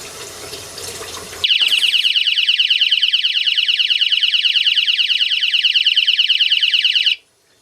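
A water leak alarm set off by a teaspoon of water blares loudly and continuously, a rapid, piercing electronic pulsing that runs for several seconds before cutting off abruptly.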